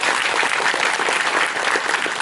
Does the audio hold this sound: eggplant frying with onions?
no